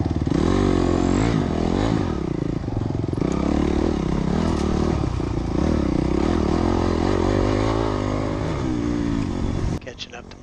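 Dirt bike engines roar loud and close throughout on a motocross track, a Husqvarna and a Honda among the riders, with steady high revving and gear changes until the sound drops off near the end.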